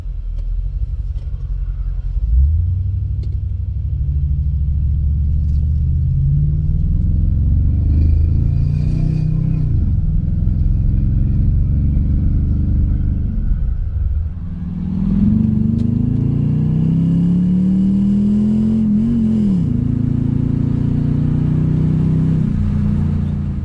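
A Yamaha Royal Star motorcycle engine, being brought back to running after two years idle, rumbles low and steady, with its pitch rising and falling as the throttle is blipped twice.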